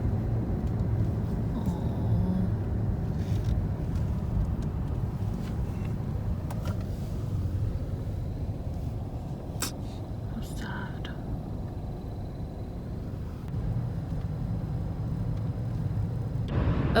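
A car drives along at steady speed, giving a continuous low road and engine rumble inside the cabin, with a few faint clicks and bumps and soft whispery voices over the top.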